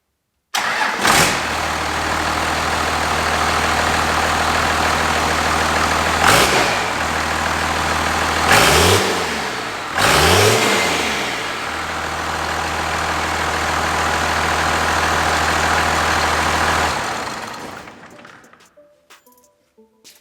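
A Cummins diesel swapped into a 1967 Ford F-250 cranks and fires, then revs sharply several times before settling into a loud, rough idle that cuts off near the end, heard close with no voices.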